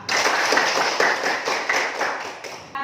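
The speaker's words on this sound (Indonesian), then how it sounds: "Oke, tepuk tangan untuk kita semua." A class of students claps hands together in a classroom, a loud, dense patter of claps with a few stronger rhythmic beats, ending abruptly.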